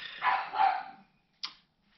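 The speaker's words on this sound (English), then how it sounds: "something interesting for the dogs to bark at outside" Dogs bark outdoors: a couple of sharp barks close together, then a single shorter bark after a brief pause.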